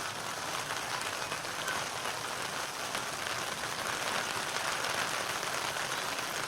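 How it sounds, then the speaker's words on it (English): Dense, even patter of rain drumming on a taut tent, a constant hiss resembling distant applause, steady throughout without voices, at a cross country meet. "that's really the rain hitting our tent"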